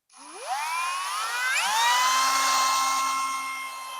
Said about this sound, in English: I can use this drill with either hand